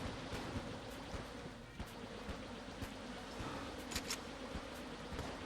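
Bees fired from a gun in Enter the Gungeon make a faint insect buzz under a busy wash of game noise, broken by scattered sharp impact clicks.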